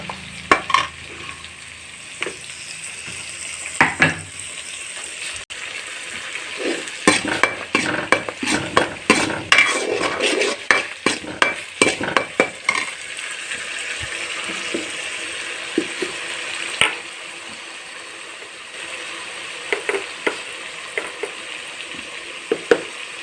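Ginger, garlic and onion paste fries in a pan for an egg omelette curry, a steady sizzle broken by frequent clattering scrapes and knocks of the stirring utensil, busiest in the middle stretch, with no talking.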